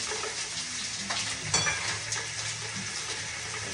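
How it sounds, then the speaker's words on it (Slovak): Onion fries in hot oil in a pan, a close, continuous sizzle with light stirring scrapes and a brief louder clatter midway. "Dáme robiť cibulku. Samozrejme na rozohriatý olej."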